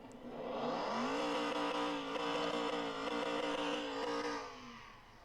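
A car engine in Car Mechanic Simulator 2021 fires up and holds a loud, steady revving drone with tonal whine for several seconds, then fades out as it settles.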